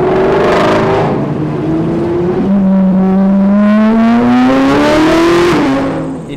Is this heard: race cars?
yes